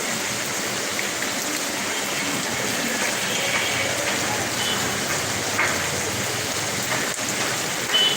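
Light drizzle falls steadily outdoors, making an even, continuous hiss of rain on surfaces with no break and no voices.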